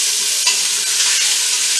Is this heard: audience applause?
no